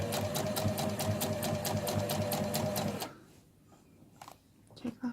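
Sewing machine running a zigzag stitch on a tilda doll, a loud rapid rhythmic clatter for about three seconds before stopping, followed by faint handling clicks.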